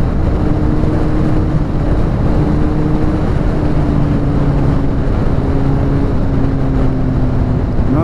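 A Suzuki GSX-R 750 sport motorcycle fitted with an Akrapovic exhaust drones steadily and loudly while riding, its engine note holding a sustained pitch with slight rises, buffeted by heavy wind noise throughout.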